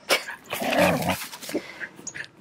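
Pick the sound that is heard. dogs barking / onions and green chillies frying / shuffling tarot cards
dogs barking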